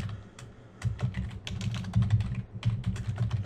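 Rapid, uneven keystrokes on a computer keyboard, typing into the chat of a Minecraft server on a Windows PC, clattering close and clear with no talking.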